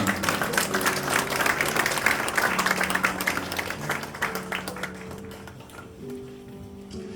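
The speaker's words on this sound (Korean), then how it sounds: "큰 박수로 함께 축하해 주시기 바랍니다." Audience applause at an award ceremony, a dense, steady clapping that carries on for several seconds and gradually thins out. Faint tonal background sounds sit underneath.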